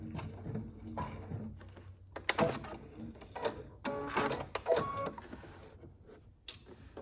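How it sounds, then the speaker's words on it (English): A sewing machine stitches fabric for a bread bag with a rapid mechanical patter in bursts, stopping and starting briefly between runs, close and clear with no voices. "I'm going to back stitch to the dot and then sew to the end"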